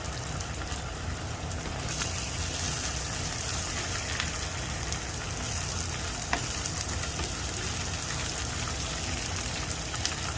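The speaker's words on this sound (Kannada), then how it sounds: "ನೋಡಿ ಇವಾಗ ಕ್ಯಾಪ್ಸಿಕಮ್ ಹಾಕ್ತಾ ಇದ್ದೀನಿ" Capsicum frying in a pan with onion and ginger for vegetable upma, a loud steady sizzle running throughout with faint stirring clicks and no talk.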